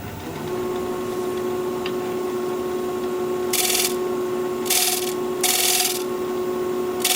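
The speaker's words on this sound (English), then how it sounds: "So I'm going to work on rounding this edge over while I still have a little extra thickness right here" A wood lathe spins an alder platter at 1200 RPM, a steady tonal hum with a constant whine, broken by three bursts of scraping hiss as a tool rounds over the edge.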